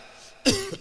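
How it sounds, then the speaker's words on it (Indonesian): A single sharp cough close by, bursting out after a moment of quiet and trailing off with a short rough tail. "Batuk."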